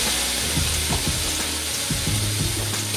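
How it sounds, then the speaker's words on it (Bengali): Ginger garlic paste frying in a pan with onions, a steady close sizzle running throughout, with occasional scraping and stirring clicks over the crackle. "আদা রসুনের পেস্ট দিয়ে ভালোভাবে নেড়ে চেড়ে আদা রসুনটা বেশ কিছুক্ষণ ভেজে নেব"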